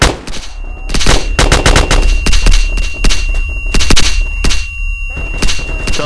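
Video game machine-gun fire around a manor, loud rapid bursts of automatic shots with short gaps between volleys, close and harsh, with no speech over the firing.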